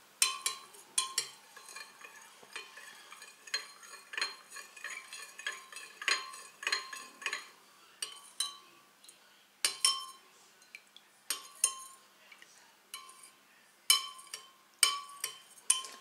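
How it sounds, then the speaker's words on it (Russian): A spoon stirs a yogurt and milk mixture in a bowl, bright intermittent clinks and scrapes against the sides in irregular bursts, close and fairly quiet, with no voices. "Все это перемешиваем"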